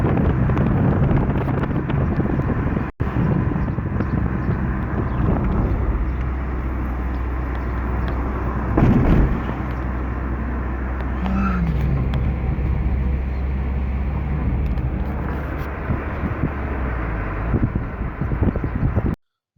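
Steady engine and road rumble from inside a car driving past Tipasa University in Algeria, with wind buffeting the microphone, continuous and fairly loud with no talking.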